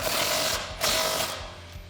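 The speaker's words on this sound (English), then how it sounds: "So I am going to use an 18mm socket and my impact wrench and tighten that up into the welded" An impact wrench with an 18mm socket tightens a running-board motor protective bracket bolt into a welded nut on a Jeep Wrangler JL 4-door, giving a close, loud buzzing rattle with two short hammering bursts.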